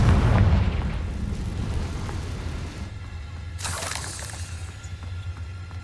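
Confringo fire spell exploding in Hogwarts Legacy: a heavy boom at the start, then a second sharp blast burst a few seconds later, over a low rumbling game background.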